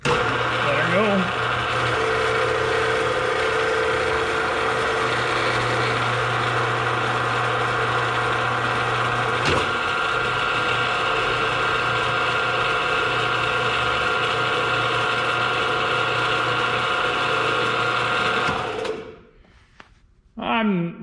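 A machine taps 1/2-13 threads into a steel post at 95 RPM with a steady, loud mechanical drone and hum. It runs unbroken for most of the time, then cuts off abruptly near the end.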